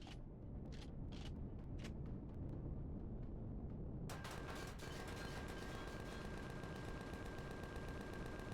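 Gunfire in Empyrion Galactic Survival, a burst of separate sharp shots over steady game ambience, then a dense rapid stream of rounds with a constant tone from about midway to the end, no talk.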